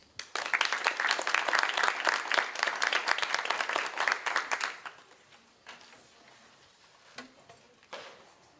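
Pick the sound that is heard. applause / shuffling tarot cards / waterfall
applause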